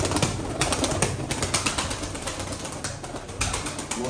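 Male Arabian pigeon heard close by, with soft cooing and fluttering sounds over a steady noisy background, no talking.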